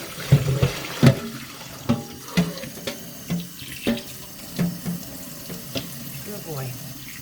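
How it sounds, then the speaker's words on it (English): Running lukewarm tap water from a sink faucet rinses a guinea pig during a bath, a steady splashing flow broken by louder irregular splashes and knocks close by, with no talking. "this is nice lukewarm water, so I can start to rinse him off"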